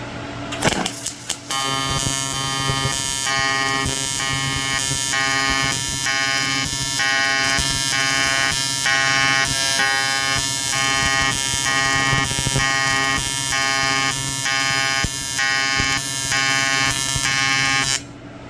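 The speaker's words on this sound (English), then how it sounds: "This is pretty thick aluminum, so it's going to take a second to get enough heat into it to weld it up" TIG welding thick aluminum at about 250 amps, a loud, continuous electric buzz with a steady pulsing hum that starts after a few brief crackles and holds evenly close-up until it cuts off near the end.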